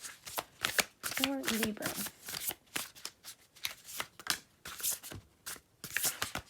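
A deck of oracle cards is shuffled in a tarot reading, giving repeated riffling and flicking bursts with soft slaps, close and clear, while a person talks over it.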